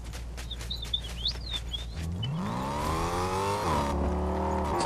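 Car in Fortnite starting up and revving, its engine pitch climbing steadily then dipping and rising again, loud and close after a calm stretch with birds chirping in the background.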